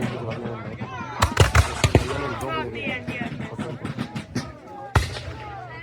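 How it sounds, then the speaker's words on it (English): Several sharp, booming cannon blasts, fired with half-strength gunpowder at a Siege of Fort Erie reenactment, go off in quick succession amid a crowd, with people talking throughout and a final loud bang near the end. "cannons are allowed, but they're firing half the gunpowder"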